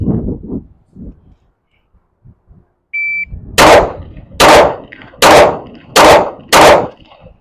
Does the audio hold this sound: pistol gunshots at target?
yes